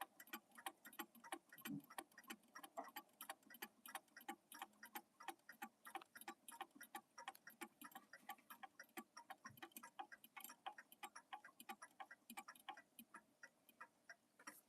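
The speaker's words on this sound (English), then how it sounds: "you can probably hear that ticking sound here" A clock under repair ticks steadily in a quiet room, a rapid, even, faint run of ticks throughout with no talk.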